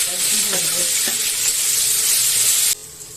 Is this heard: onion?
yes